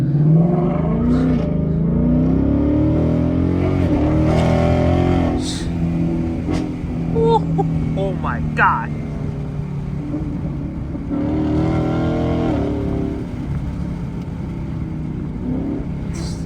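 A Ford Mustang pulls away hard from a green light, its engine note climbing in a loud, sustained rev with a shift partway through, then easing off. A voice briefly exclaims over the engine.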